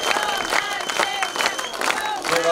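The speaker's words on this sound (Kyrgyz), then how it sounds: "Кол чаап койсоңуздар болот." Audience clapping and murmuring inside a cinema during a film presentation, a steady wash of applause and crowd noise with voices mixed in throughout.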